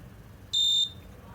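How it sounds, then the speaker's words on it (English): A digit-counting circuit's electronic buzzer sounds one steady, high-pitched tone for about a third of a second, close and clear over a quiet background. "the buzzer will buzz and the LED will glow"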